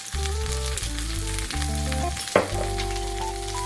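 Onions frying in tempering oil hiss steadily up close, with a sustained tonal drone running underneath and a brief sharper crackle midway.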